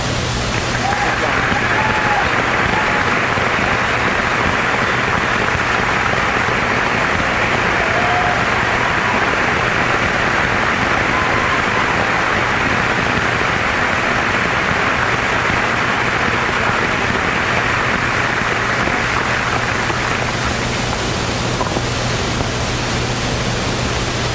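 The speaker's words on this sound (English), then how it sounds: "how about another big round of applause for our state champions?" A large audience claps loudly and continuously for the Plymouth state champions at a 1982 school celebration, a dense steady roar of applause that holds for about twenty seconds before easing off.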